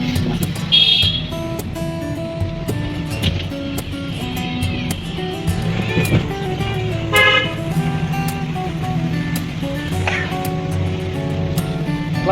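A car horn sounds in short toots during a driving lesson, heard from inside the car over a steady engine hum and road noise, with faint talk in the cabin.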